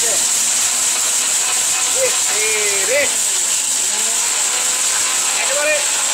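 A 1600-watt electric blender grinding brick powder runs at full speed, a loud constant whirring roar with a high whine, and faint squeaky tones float over it.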